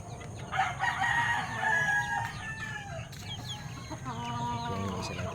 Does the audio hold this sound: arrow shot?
no